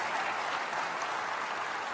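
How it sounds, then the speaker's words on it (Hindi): A crowd applauding at a university event, a dense, even wash of clapping that holds steady and fairly loud throughout, with no voices standing out. "आपकी तालियां बजनी चाहिए"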